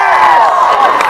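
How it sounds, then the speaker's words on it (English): A large fan-convention crowd cheers and roars continuously, with clapping blended into a dense, loud wash and a strong voice-like cheer running through it. "And one more big round of applause for you!"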